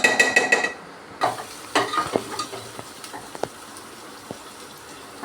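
Onion paste fries in a pan while a spoon stirs it, starting with quick metallic scrapes that give way to a soft sizzle and occasional knocks, close by, with no talking.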